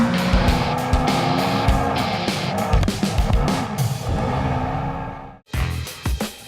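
Off-road race cars in the Terracross X Class charge through mud, with loud, continuous engine roar, revving and tire noise that cuts off abruptly near the end before resuming.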